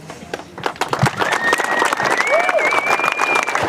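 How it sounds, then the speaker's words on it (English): Audience applause at a conference stage presentation, clapping building from scattered claps into steady dense applause, with a whistle-like tone sliding across the middle. "But really, I owe it to these guys, because seriously, give them a round of applause."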